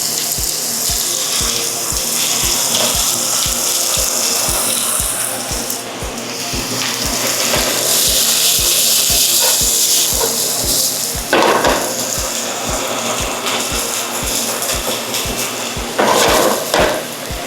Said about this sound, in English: now we're going to saute our onion and garlic